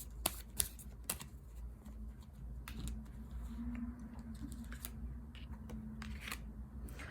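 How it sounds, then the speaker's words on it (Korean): Tarot cards being drawn and handled in a quiet room: faint, sparse, crisp clicks and taps with soft shuffling between them. "카드를 한번 뽑아보도록 할게요"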